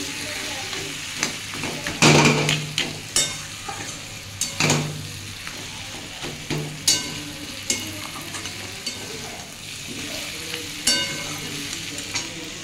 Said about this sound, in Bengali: সব দিয়ে বন্ধুরা একটু কষিয়ে নিচ্ছি